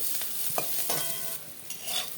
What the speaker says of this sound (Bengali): এইভাবে পুরো খড়খড়ে ভাজতে হবে